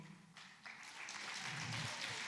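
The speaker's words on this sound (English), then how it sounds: "keep the applause going" Audience applause at an arangetram dance recital, a soft, steady wash of many hands clapping at some distance that builds gradually and holds.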